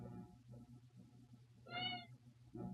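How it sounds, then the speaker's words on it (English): A single drawn-out cat meow from a Super Nintendo game rises over a low, steady background of game sounds and lasts under half a second. "that's my cat"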